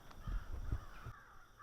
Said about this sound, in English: There's like a million crows over there.